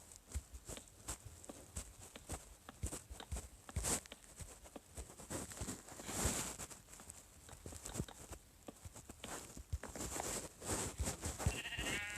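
Sheep bleat intermittently in Minecraft amid busy clattering footsteps and faint background noise, the calls short and moderately close.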